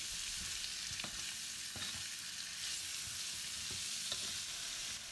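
Onion frying over medium heat, stirred now and then, a soft steady sizzle broken by a few scraping spoon strokes across the pan, quiet and without voices.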